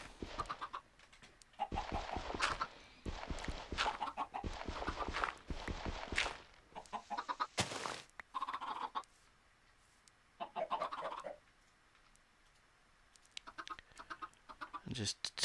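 Chickens in a survival video game cluck and scratch, with rapid footstep-like taps and fowl calls in dense bursts. A quiet pause follows, then scattered clucks return near the end.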